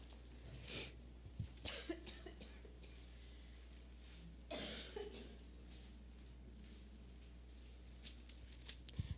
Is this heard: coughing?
yes